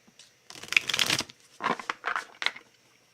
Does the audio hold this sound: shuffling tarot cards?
yes